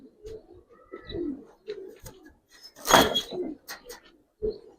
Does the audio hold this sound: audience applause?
no